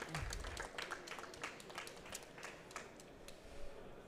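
Audience at a conference on production systems and organisations applauding a speaker. Scattered hand claps are faint and fairly distant, and they thin out over the few seconds.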